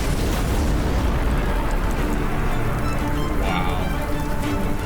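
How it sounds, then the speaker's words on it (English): A massive explosion destroys the giant French flagship L'Orient in a naval battle: a dense, continuous roar and rumble holds at a steady, heavy loudness throughout. "The giant French flagship L'Orient is destroyed in a massive explosion."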